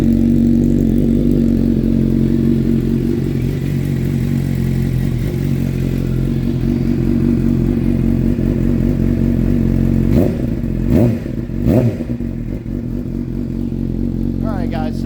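A Suzuki GSXR 600 sport bike with an M4 exhaust idles close by with a loud, steady, throbbing rumble. Two short throttle blips rise out of it near the end before it settles back to idle.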